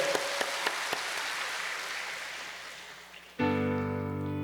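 A church congregation applauds steadily at moderate volume, the clapping thinning out before music with sustained tones abruptly starts near the end.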